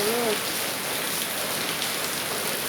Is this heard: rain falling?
yes